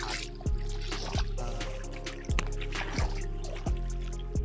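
Footsteps slosh through shallow floodwater on a road at a steady pace, each step a wet splash over a constant low hum of traffic.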